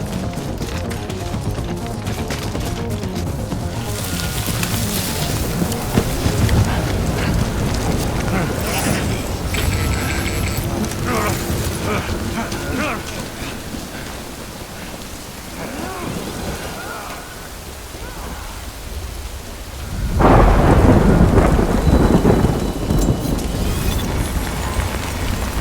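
Rain and thunder in Death Stranding, with steady downpour and low rumbling, and a louder surge near the end. Game voices talk over parts of it.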